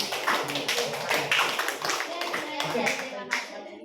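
A classroom audience claps after a class presentation, a busy spread of many hands beating steadily at close range, with children's voices mixed in under the applause.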